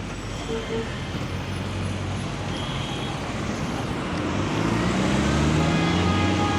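Steady city road traffic noise, with CNG buses and other vehicles moving along a busy Abuja street, a continuous engine rumble that grows slightly louder toward the end.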